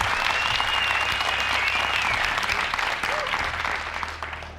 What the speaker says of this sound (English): A round of applause for our debate.